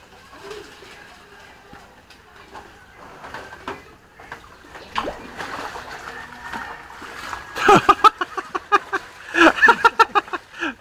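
Floodwater splashes and sloshes inside a house flooded during a typhoon. Scattered splashes build into a quick, rhythmic run of loud bursts toward the end, with voices talking over it.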